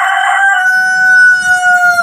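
A rooster crows once nearby, a loud drawn-out call that trails off, with faint background noise underneath.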